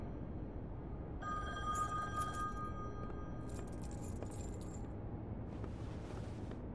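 Metal keys jangle in The Wolf Among Us game, a light, scattered jingling in short bursts over a quiet low background hum, with a faint ringing tone at the start.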